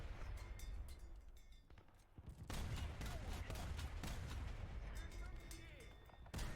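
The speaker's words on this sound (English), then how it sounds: "Sorry, I'm just shooting these guys." Rapid bursts of gunfire from a War Thunder battle crackle steadily through the scene, loud and dense, with faint talk mixed underneath.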